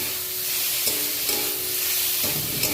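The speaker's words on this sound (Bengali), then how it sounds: "মশলাটা দিয়ে ভালো করে কষিয়ে নেব" Ground mustard paste with ginger and garlic fries in a pan for a raw green tomato dish, giving a steady sizzle with a few spoon taps and scrapes, close by.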